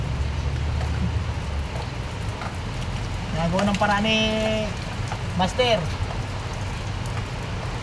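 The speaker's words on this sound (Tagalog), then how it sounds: "Binabayo ng ulan ang mga gumagawa ng truck." Heavy rain pours down in a steady, dense hiss while people talk close by.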